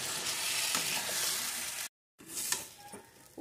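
Soybean mixture being stirred in a hot pan to dry it out, a dense close sizzle with spatula scrapes, broken by a brief silent cut before resuming.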